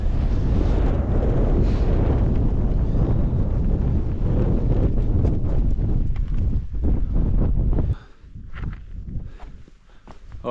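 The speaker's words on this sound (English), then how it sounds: "Oh, it's lovely getting out of that wind from that side." Strong wind buffeting a microphone on the Striding Edge ridge near Helvellyn in sub-zero snowy conditions, a loud continuous roar that drops abruptly near the end to quieter gusts and faint footsteps.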